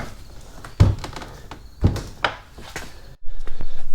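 Door from a 1988-98 Chevy Silverado pickup is handled and set down, giving a few heavy thunks and metallic knocks with shuffling and scraping between them, close by, without speech.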